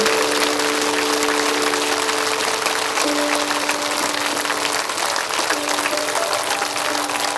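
A large crowd at a meditation gathering in Ballari, Karnataka, claps loudly and continuously, a dense even roar of applause with a sustained tone running beneath it.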